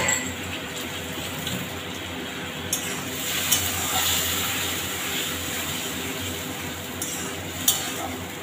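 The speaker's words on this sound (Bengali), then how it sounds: "সেই টমেটো বাটাটা দিয়ে দিলাম।" Ground tomato paste goes into a hot pan for omelette curry, giving a steady close sizzle with a few sharp clinks of a utensil against the pan and no voices.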